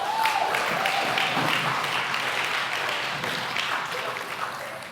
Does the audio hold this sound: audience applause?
yes